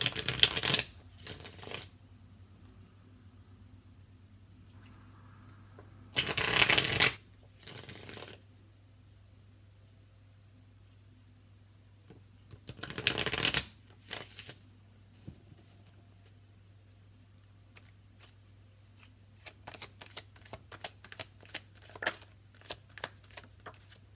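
Tarot cards are shuffled up close in a quiet room, with several short riffling bursts separated by pauses and then a quick series of soft taps and snaps as cards are handled.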